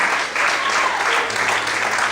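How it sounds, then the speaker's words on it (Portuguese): Church congregation applauding loudly during a Portuguese-language sermon about Jesus and the widow of Nain; dense, steady clapping from many hands fills the whole stretch with no voices. "Quem crê nesse Jesus, levanta a mão, glorifica e aplauda Ele bem forte, amém?"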